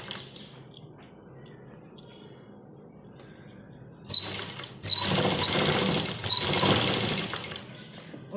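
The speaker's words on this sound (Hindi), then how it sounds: "जो हमने ये निशान लगाया है इसी के अकॉर्डिंग हम अपनी सिलाई देंगे।" A sewing machine stitches a plazo, starting after a quiet stretch with a loud, rapid, buzzing run of stitches that pauses briefly and then resumes, heard close up.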